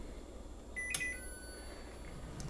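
A short electronic start-up beep from a Cosori air fryer with a faint tonal chime rings out over a quiet background hum, followed by a soft second beep near the end.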